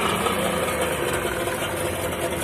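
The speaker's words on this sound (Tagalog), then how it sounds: "paano mag-test ng makina ng rescue boat natin" A rescue boat's engine idles during a weekly test, giving a steady, dense mechanical rumble and whir at close range with no pauses or changes in speed.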